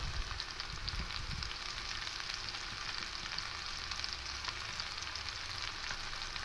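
Food with salt and turmeric fries lightly in a pan, giving a steady, continuous sizzle with crackling pops throughout. No one speaks.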